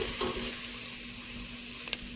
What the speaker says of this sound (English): the onions are sizzling away